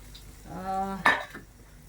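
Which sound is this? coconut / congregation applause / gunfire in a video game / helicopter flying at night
coconut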